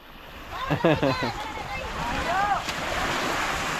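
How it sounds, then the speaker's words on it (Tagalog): Strong surf and wind rush steadily near the shore, with a few brief voices calling out over the waves early on. "Malakas na yung alon."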